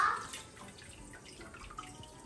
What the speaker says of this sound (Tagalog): nire-rinse ko na. Tinatanggal na natin yung lumot-lumot. Hugasan natin isa-isa.